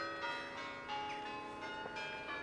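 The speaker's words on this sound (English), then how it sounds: "Ringing the church bells" Church bells ring in a steady, overlapping peal with sustained ringing tones, moderately loud and continuous, with no talk over them.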